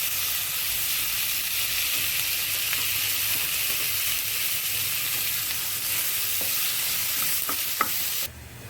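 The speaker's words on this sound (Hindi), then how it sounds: "अब हम इसमें डालेंगे टमाटर, और टमाटर जब तक मच्छी नहीं हो जाते, थोड़ा घी सेपरेट नहीं हो जाता" Tomatoes fry in ghee with onions in a pan, giving a steady close sizzle with soft stirring scrapes throughout and no talk.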